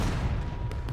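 Cannon fire in the Civil War video game War of Rights, a dense, continuous rumbling boom with low, heavy blasts filling the whole second.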